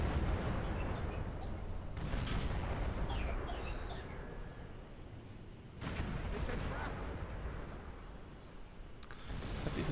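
Heavy tank cannon shots in the World of Tanks video game, two or three loud booming blasts a few seconds apart with rumbling decay and scattered game effects between them.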